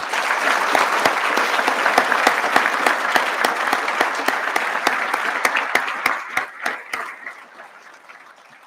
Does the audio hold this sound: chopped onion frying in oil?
no